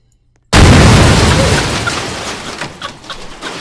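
A bomb explodes in the Roblox game Where's the Baby, a sudden loud boom after half a second of silence that rumbles and slowly decays with scattered debris crackles.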